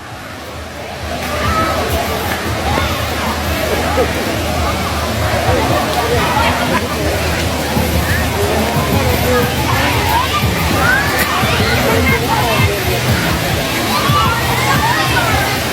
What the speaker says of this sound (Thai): นี่ก็เป็นน้ำตกยอดนิยม